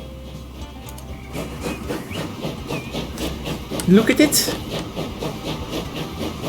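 A steam train runs in the Transport Fever 2 video game, chuffing in a rhythmic series of hissing puffs over a low rumble. A voice speaks briefly.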